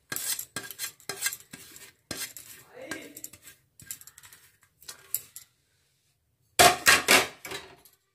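Onion, green chilli, nigella and carom seeds being mixed into flour for onion paratha dough, a series of close clattering scrapes and taps of a utensil against a bowl in short bursts, with pauses and a louder final flurry.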